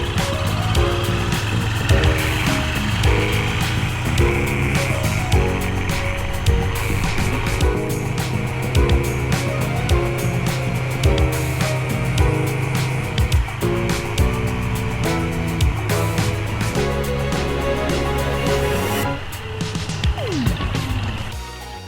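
Motorcycle ride after fitting a new TYKOOL battery: a continuous engine drone with steady rumble and wind, riding along at constant speed for over twenty seconds, close and loud, no talking.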